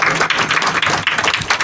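Audience applause at a tribute concert for a music director, a brief, dense burst of many hands clapping together, loud and close, with no voices over it.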